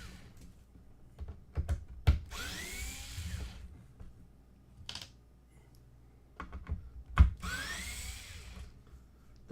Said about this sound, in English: I'm gonna get the screws out of here. Because these are the hard drive screws.